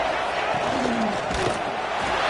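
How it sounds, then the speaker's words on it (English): Stadium crowd roaring in the college football video game NCAA 26 as the defense holds in the red zone, a steady dense roar throughout, loud and continuous, with a commentator's voice faintly under it. "the crowd coming to life here, trying to help this defense down in the red zone"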